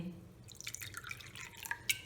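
Water from a glass pours into a cooking pot of rice, a light dripping and splashing trickle that stays faint and close, with a few brighter droplet splashes near the end.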